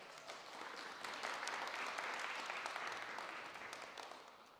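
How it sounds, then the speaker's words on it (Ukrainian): Church congregation applauding the worship band, a soft, distant wash of clapping that swells and then tapers off, with no talk on top. "Давайте гучними оплесками подякуємо нашій крутій групі прославлення."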